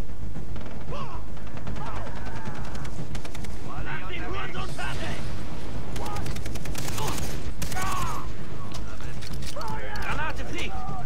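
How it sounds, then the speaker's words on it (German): Rapid bursts of gunfire in the video game Far Cry 3, including machine-gun rattles, erupt repeatedly amid shouting voices and clanking mechanical noises. "Die Schüsse schon wieder."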